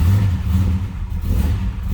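A 1967 Chevrolet Chevelle Malibu hardtop with a mild cam runs with a steady, loud low-pitched rumble close by, the engine holding a rough, throbbing idle with slight surges and no voices.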